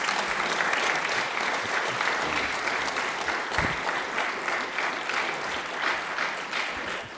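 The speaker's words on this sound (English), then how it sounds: "let's please give a round of applause to both our hospital candidates." Audience applause at a candidate forum, a full steady wash of clapping from a roomful of people lasting several seconds and tapering slightly toward the end.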